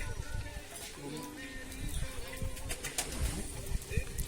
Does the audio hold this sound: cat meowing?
no